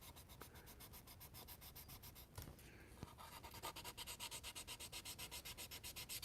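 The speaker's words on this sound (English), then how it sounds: "these sanding pads are dope, man. The 240 comes through a lot" Rapid, rhythmic back-and-forth rubbing of 240-grit sanding pads on a part of a Corvair model build, close and quiet, with strokes growing steady and regular toward the end.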